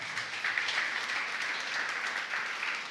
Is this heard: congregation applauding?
yes